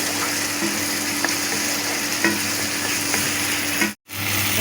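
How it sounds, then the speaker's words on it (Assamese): A steady sizzle of masala frying in hot oil for a jackfruit curry runs throughout, with faint clicks of stirring and a brief gap near the end. "তেল ওলোৱালৈকে এনেদৰে অকণমান ভাজিব লাগিব"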